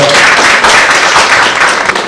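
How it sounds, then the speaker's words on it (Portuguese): Applause from a seminar audience in Brazil, greeting a guest speaker at a law lecture: dense, steady clapping fills the whole stretch, loud and close, with no talk over it. "uma salva de palmas para ela"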